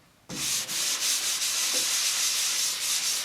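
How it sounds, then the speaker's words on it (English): Hand sanding on a drywall patch starts abruptly and continues as a steady, close, hissing scrape with faint rhythmic strokes and no talk. "This one's leaving sanding scratches."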